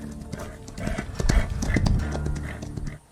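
A horse galloping away, its hoofbeats clip-clopping in a quick, close, fairly loud rhythm for a few seconds before easing off.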